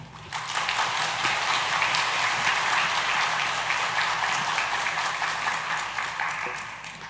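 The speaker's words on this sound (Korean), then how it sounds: "나오실 때에 박수로 환영하겠습니다." Steady crowd applause from a church congregation at a Sunday afternoon service, loud and sustained for several seconds before easing slightly at the end.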